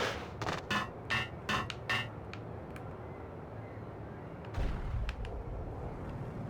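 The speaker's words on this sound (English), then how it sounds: "Sniper rifle." Sniper rifle shots in Max Payne, a quick string of about six sharp cracks in the first two seconds, then a couple of fainter pops and a heavier boom near the end, with no talk.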